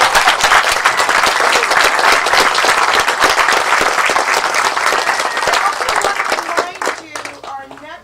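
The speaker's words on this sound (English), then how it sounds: "we're going to give Reverend Lawson an applause" An audience applauds Reverend Lawson after a talk on civil discourse and social change, loud dense clapping sustained for several seconds before fading out near the end, with faint voices emerging as it dies down.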